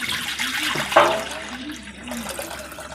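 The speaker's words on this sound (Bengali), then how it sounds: "ধরো আমি কড়াতে প্রথমে দিয়ে দিলাম জল।" Water pours into a wok in a short, close, loud splash and gurgle that fades after about a second.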